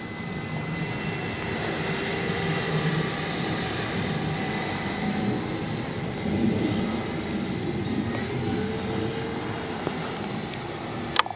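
A Flightline 1600mm P-51D Mustang RC plane glides in to land, its engine giving a steady, moderately distant drone that holds fairly even throughout, with a faint shifting whine.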